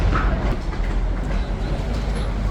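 A Seoul subway Line 5 train rumbles steadily at Yeouinaru station, a continuous low roll with faint clicking wheels and no speech.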